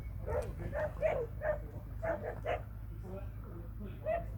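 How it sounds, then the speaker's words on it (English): A Border Collie lets out a string of short, yappy barks and whimpering yips, moderately close, over a steady low rumble like a car engine, with a few spaced bursts across the stretch. "He's just barking a bit."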